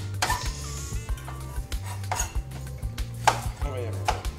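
A knife chops a small batch of shallots on a board for a sauce base, giving a handful of irregular, crisp strikes close by over a steady low kitchen hum, with no talking.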